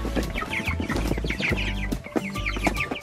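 Chickens cluck and squawk excitedly in a busy feeding frenzy on a farm, with close, overlapping calls in rapid, irregular bursts throughout.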